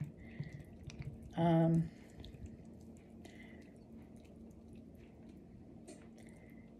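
A watery olive-oil dressing is poured over chicken for a Mediterranean chicken dish, giving a brief wet splash and trickle near the start before quiet kitchen background returns.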